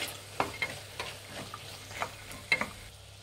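Kohlrabi strips being stirred in a frying pan for a hotel-style vegetable Kolhapuri gravy, with a soft sizzle under a handful of scraping spoon strokes coming every half second or so, close up.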